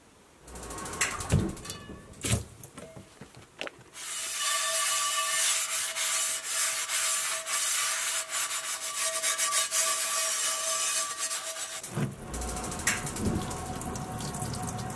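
Steady scrubbing and rasping on a cast iron skillet in a kitchen, a continuous gritty rubbing that runs for several seconds after a few separate knocks and scrapes, then breaks into shorter strokes, close and fairly loud with no talk.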